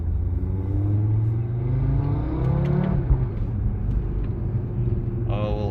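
A 2017 Audi RS3 8V2 with a 400 hp five-cylinder and S-tronic gearbox pulls hard on a lap, its engine note rising steadily and loud, close inside the cabin with a steady low drone beneath.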